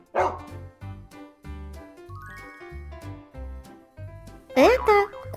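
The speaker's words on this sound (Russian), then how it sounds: "Собака лает." A cartoon dog barks in a rhythmic series of short woofs with light jingling tones, followed by a child-friendly speaking voice near the end.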